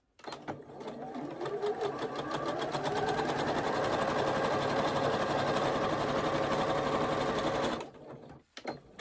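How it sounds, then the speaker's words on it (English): A sewing machine runs steadily while stitching quarter-inch seams on either side of a drawn line on quilt half square triangles, a continuous rapid mechanical whir for several seconds before stopping abruptly. "sew a 1/4 inch on either side of that line"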